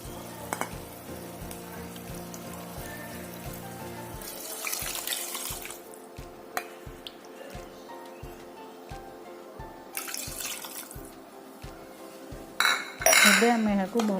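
Water is poured into a pot of rice for mint peanut pulao, splashing in two short bursts amid kitchen clatter of utensils and metal cookware, fairly close and moderately loud.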